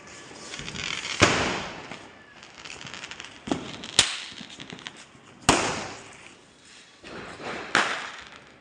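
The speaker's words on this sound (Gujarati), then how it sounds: "હવે યશવી કોઠી સળગાવે છે." Fountain firework (kothi) lit outdoors during a Diwali celebration, heard as a steady hissing spray broken by several sharp, loud firecracker bangs at irregular intervals.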